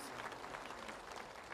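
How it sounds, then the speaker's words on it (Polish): A large pilgrimage crowd at Jasna Góra applauds for visiting pilgrims from Canada, a dense, steady wash of many hands clapping at a distance, fairly faint and continuous without speech. "tym z Kanady proszę o oklaski szczególne, dobrze?"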